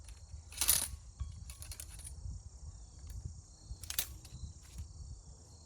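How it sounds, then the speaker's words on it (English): A ramrod rams a cartridge down a Revolutionary War musket barrel, giving two sharp metallic clinks a few seconds apart, with fainter rattling and a low ambient hum. "Draw rammer. Ram down cartridge."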